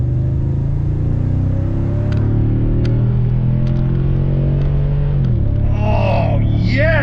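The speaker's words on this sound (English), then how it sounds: "This thing sounds like a muscle car. It's deep, it's rich, it's throaty." A 2021 Toyota Tundra TRD Pro pickup rumbles through its dual exhaust, a deep, steady drone heard close by that swells into a short rev near the end.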